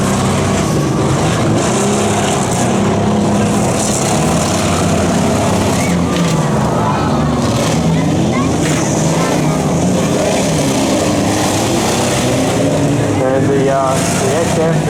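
Late-1990s Toyota Camry cars at a demolition derby at a country show, with engines roaring and revving continuously amid crowd noise and a commentator talking over the loud, busy scene.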